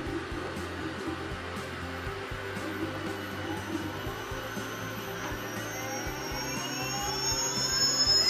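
A KingSong 18L electric unicycle wheel spins freely off the ground, giving a steady motor whine and a hum close by. The tone climbs gradually toward the end.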